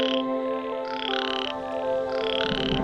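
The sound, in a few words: croaking heralding the monsoon rain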